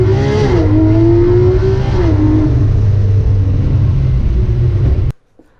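A Porsche GT3RS launches hard from a standstill, its engine loud and close with a rising howl that climbs through gears, holding a strong steady roar before cutting off abruptly near the end.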